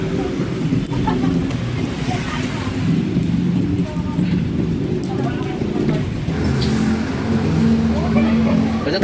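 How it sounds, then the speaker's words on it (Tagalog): Heavy rain falling steadily at a hotel in BGC, a dense continuous wash of noise with low rumbling underneath, while people talk over it. "lumalakas ang ulan."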